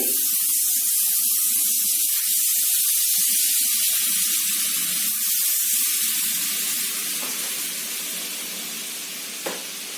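Butter melts in a pan over a medium-low stove flame, giving a steady, bright hiss that tapers slightly toward the end, with a couple of soft clicks.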